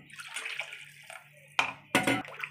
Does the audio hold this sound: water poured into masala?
yes